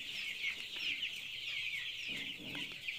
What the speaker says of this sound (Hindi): हमारे चूजा आज ही देखिए